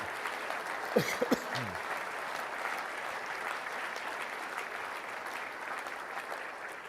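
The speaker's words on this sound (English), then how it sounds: "Let's give him a round of applause" Audience applause fills the hall at a military awards ceremony, steady and sustained clapping from a large crowd, with a couple of brief voice-like sounds near the start before the ovation continues evenly.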